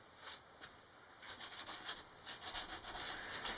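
A cloth with rubbing alcohol wiping a ceiling panel surface in an RV, making soft, faint rhythmic rubbing strokes close by, several quick swipes in succession, no talking.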